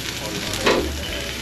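Raw gyukatsu beef sizzling on a small tabletop grill at a restaurant in Osaka, a close, steady crackling hiss with a brief louder flare midway.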